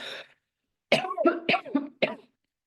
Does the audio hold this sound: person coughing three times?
yes